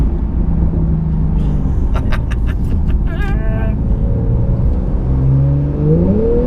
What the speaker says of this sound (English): the exhaust on the overrun crackles